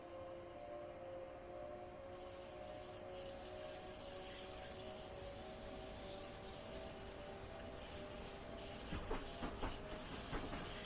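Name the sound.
Class 466 train departing for Faversham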